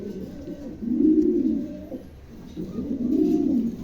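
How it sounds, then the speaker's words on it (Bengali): A pair of young Dragon Homer pigeons coo close by, two low, throaty rolling coos separated by a short pause. "দুটো কবুতরই মাশাআল্লাহ, একদম নতুন কবুতর।"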